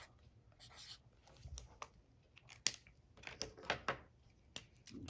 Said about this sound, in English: Let's write it and mark it up.